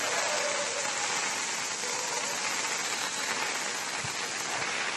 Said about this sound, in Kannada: ಜೋರ್ ಮಳೆ, ಈಗಲೂ ಮಳೆ ಜೋರ್ ಬರ್ತಾ ಇದೆ